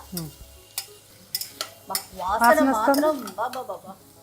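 Tomatoes dropped into hot oil for a paneer biryani, giving a soft sizzle with stirring and clinks of a spoon against the pan, close and moderate, running steadily after several sharp taps.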